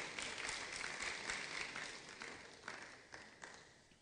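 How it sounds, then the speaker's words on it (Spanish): A church congregation applauds for the Lord in a dense, steady wash of clapping that gradually thins and fades, heard at a moderate distance. "Dale palmas al Señor"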